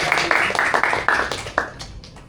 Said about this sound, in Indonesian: Aplaus dulu buat Kak Antea.